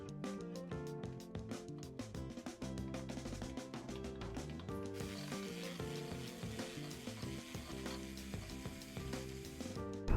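Ratchet working intake manifold bolts loose on a 1994 Ford 300 inline six, a close, continuous run of fast clicking pawl strokes with metallic scraping and no talk.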